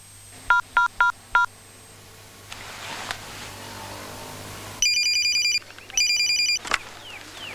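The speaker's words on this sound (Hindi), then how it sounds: "there's a call for Santosh ji" A telephone signals an incoming call: four short tonal beeps, then a pause, then two longer bursts of bright electronic ringing, loud and close, with no talk.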